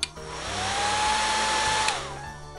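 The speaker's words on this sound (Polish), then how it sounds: "Suszarka." A hair dryer blows with a steady, close whooshing whir and a whining motor tone for a couple of seconds, then cuts off.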